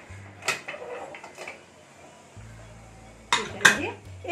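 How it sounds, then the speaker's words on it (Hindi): Metal pressure cooker lid, with rice inside, is handled and clanked shut in a kitchen, giving a few sharp close metallic clinks and knocks separated by quiet stretches, and a low hum runs underneath. "अभी कुकर बंद करेंगे।"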